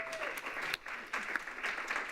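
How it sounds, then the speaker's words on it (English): A conference audience applauds a session opener, a broad wash of clapping that holds steady for about two seconds with a brief dip partway through. "let's give him one more round of applause"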